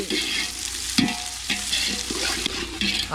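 Onions crackle in hot oil in a village kitchen pan for chicken sambar, a dense close sizzle broken by several sharp stirring scrapes and clanks.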